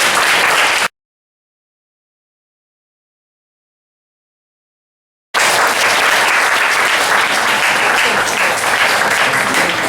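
Audience applause at a nutritionist's book talk and reader sharing event in a bookstore, a loud burst of clapping that cuts to silence, then resumes as sustained, dense clapping from a crowd.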